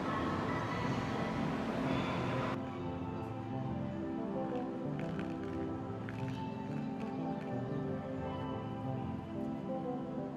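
A JR East Shinkansen E7 high-speed train rushes past close by, a loud steady roar of wheels and rushing air, with a sudden drop in hiss partway through as it continues rumbling.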